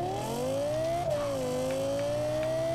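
A brand-new Lexus LFA engine in Forza Horizon 4 revs close and loud, its high pitch climbing, briefly dipping near the middle, then rising smoothly again with no talk.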